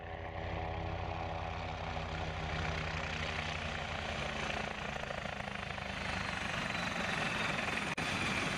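A BO 105 helicopter comes down in an autorotation landing by the seashore, a continuous rotor whir and turbine hum holding steady throughout, with a brief knock near the end.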